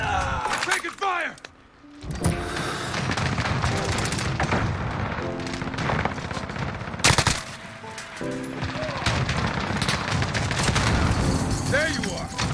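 Rapid automatic gunfire from an M4A1 in Call of Duty Modern Warfare crackles in dense bursts with occasional booms, loud and sustained, under a player's voice.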